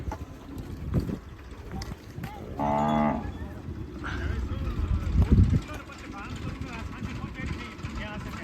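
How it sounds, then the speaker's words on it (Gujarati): Cattle arriving in drought-stricken Kutch low repeatedly, with one loud, drawn-out moo standing out clearly amid wind rumble and people talking nearby. "ગાયો નીકળી અહીંયા પહોંચી છે"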